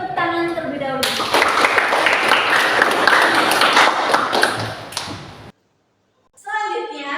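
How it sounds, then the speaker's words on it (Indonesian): Classroom applause from a group of students, a dense burst of clapping lasting about four seconds, close and loud, with a teacher speaking before and after. "Kita beri tepuk tangan terlebih dahulu."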